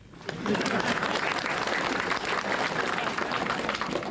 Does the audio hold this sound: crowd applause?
yes